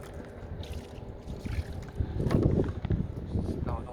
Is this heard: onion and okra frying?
no